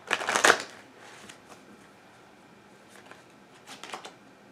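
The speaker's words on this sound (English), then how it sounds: "One more shuffle" Cards riffled in a quick burst, loud and close, followed by a few fainter shuffles.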